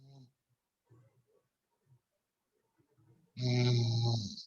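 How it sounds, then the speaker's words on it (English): A person snores once over an online call, a single loud rasping snore that comes suddenly after a few faint clicks and a near silence, picked up through a computer microphone. "They are snoring."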